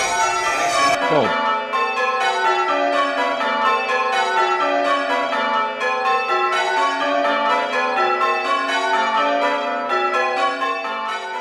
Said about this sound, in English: The training bells handle just like real church bells, and trigger optical sensors which tell the computer when the bell is striking.